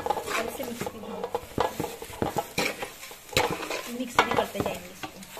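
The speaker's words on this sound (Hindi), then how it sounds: "अब इसमें सारा पोहा ऐड कर देंगे और इसे मिक्स भी करते" Flattened rice (poha) is stirred through in a pan. A spoon scrapes and knocks against the metal in irregular strokes over a light sizzle, close and fairly loud.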